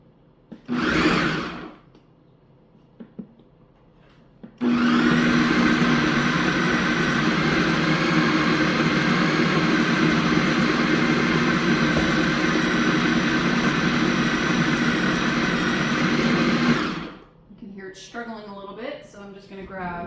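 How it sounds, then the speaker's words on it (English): A kitchen blender whirs loudly at a steady pitch for about twelve seconds, grinding a chocolate energy ball mix. Brief speech comes before it starts and after it stops. "And let's blend. Again, this can be noisy,"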